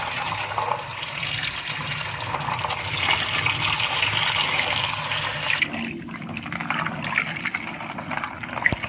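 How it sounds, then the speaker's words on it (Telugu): Egg and milk packets washed under running tap water; a steady gush of water pours continuously and loud, its tone shifting partway through as the flow strikes the packets, with no talking. "ఇప్పుడు రన్నింగ్ వాటర్ కింద కడిగేద్దాం।"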